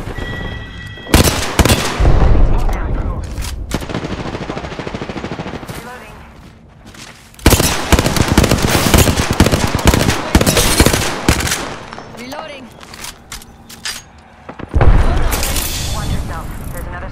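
Automatic weapon fire in an Apex Legends match, long loud bursts of rapid shots in three main volleys with short pauses between, close and dominant, with booms and mechanical clatter mixed in.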